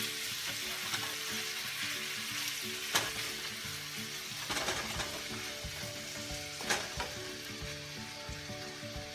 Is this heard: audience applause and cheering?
no